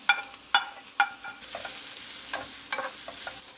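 Eggplant, onion and red and green chili peppers stir-fried in a pan, with several sharp scraping strokes of a utensil in the first second, then a steady soft sizzle broken by lighter clinks and scrapes, close and alone.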